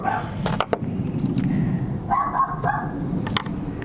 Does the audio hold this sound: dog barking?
yes